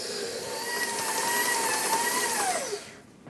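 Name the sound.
mixing lemon tart dough with cold butter into a ball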